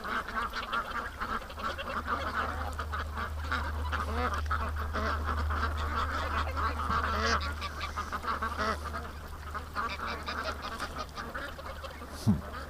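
A flock of ducks quacks and honks continuously near at hand, dense overlapping calls over a low steady hum, with one sharp knock near the end.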